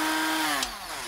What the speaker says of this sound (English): I love using this bench grinder with the flex drive